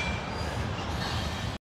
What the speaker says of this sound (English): there's a beautiful train we've been listening to